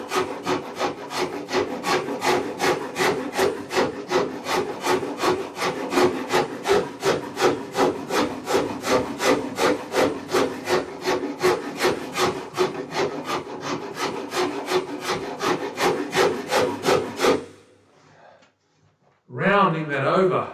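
Custom guitar wood being shaped into a bevel with a rasp or file, a steady rhythmic back-and-forth scraping of many quick strokes, close and loud, stopping abruptly near the end before a brief voice comes in.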